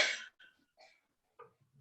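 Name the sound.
coughing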